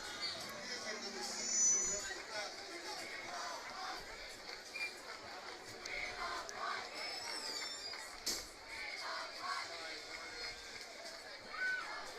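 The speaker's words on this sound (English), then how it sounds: "the Salle crowd bringing some noise for this third down" Crowd noise from La Salle supporters at a varsity high school football game against Belen Jesuit, a steady distant roar of voices and cheering sustained through a third-down play, with brief louder swells.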